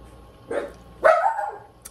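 A dog barks at someone seen outside the window during a home cooking session making cabbage fritters, two separate sharp barks close to the microphone, the second louder and drawn out, with a faint yip at the end.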